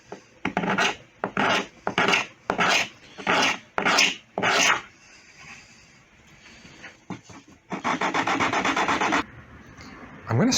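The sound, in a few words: wood gouge carving wood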